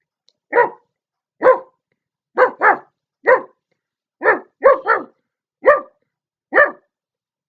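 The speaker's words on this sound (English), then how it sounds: "It's a dog." A dog barks about ten times in short, sharp, evenly spaced bursts, sometimes in quick pairs, close and clear against silence.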